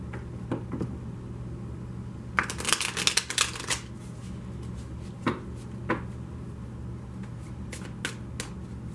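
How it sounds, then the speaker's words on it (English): Tarot cards shuffle with soft riffling bursts and light taps, quiet and close, with a longer flurry near the start and scattered brief riffles after. "Please bear with me as I shuffle."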